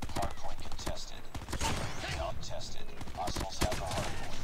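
Rapid video-game gunfire crackles in dense bursts with sharp individual shots, loud and close, while a player's voice talks over parts of it.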